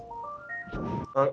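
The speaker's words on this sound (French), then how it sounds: "il a une sonnerie de merde ce téléphone, c'est hallucinant" A landline telephone rings with a steady electronic tone that rises in steps, then a burst of noisy clatter and a louder warbling ring at the end, heard fairly close with no talk over it.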